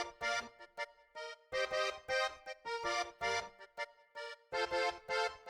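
Layered Koreana synth melody in a beat production plays short stacked phrases, several voices spread across the stereo field, rhythmic bursts separated by brief gaps, clear and alone.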